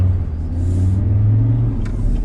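A Land Rover Discovery 2 with Storm Tuning Stage 3 tune pulls harder under throttle, a deep steady engine rumble heard from inside the cabin, loud and continuous with a slight rise in pitch.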